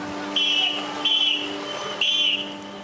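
A whistle sounds three times in short blasts of about a third of a second, at a steady pace over a constant background hum, with no talk.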